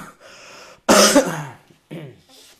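A man with chest congestion coughs hard once, then clears his throat in rough, raspy bursts. He is close and loud, with brief breathy pauses between.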